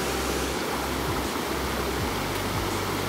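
A waterfall roars as a steady, dense rush of falling water, loud and unbroken from start to finish, with no voices.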